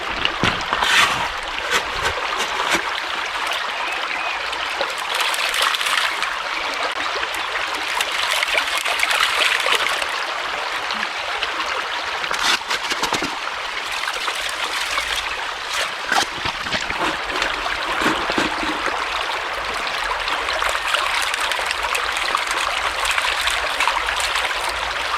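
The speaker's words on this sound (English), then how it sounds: "I've moved the sluice box upstream, redirected a good bit of stream, and it's working perfectly." Stream water in an Irish river rushes and trickles through a gold sluice box, a continuous close, splashy burble with small gurgles and no voices.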